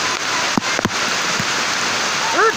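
Rain falls in a forest beside a river being crossed, a steady broadband hiss with a few brief knocks and a short vocal sound near the end.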